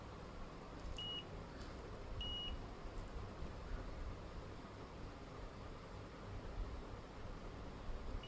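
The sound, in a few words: multimeter continuity test beeping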